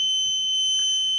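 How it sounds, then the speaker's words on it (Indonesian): Buzzer on an automatic housing gate prototype, a steady, piercing electronic tone held throughout, close and loud with faint room noise beneath. "lampu nyala, buzzer bunyi, dan LCD-nya menunjukkan"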